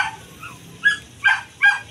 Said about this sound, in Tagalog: Yung tumatahol narinig nyo.